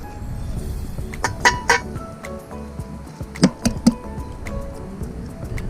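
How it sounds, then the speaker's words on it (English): Eggs cracked into a pan at an outdoor cookout, a few sharp shell taps and clinks in two quick clusters over a low background rumble, close and without speech. "So I'm gonna crack them in real quick."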